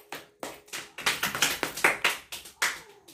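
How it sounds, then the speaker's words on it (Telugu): Hands clap in a quick irregular string of about a dozen sharp, close claps at a small family Teachers' Day celebration, with no talk over them. "Claps claps claps."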